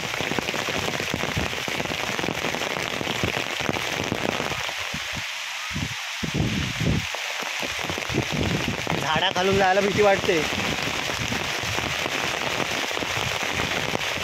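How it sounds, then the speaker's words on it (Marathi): Heavy rain with wind pours steadily in the Konkan region throughout, a dense hiss with a brief lull in the middle, while a person speaks over it. "बघा पाऊस पडतोय कसा"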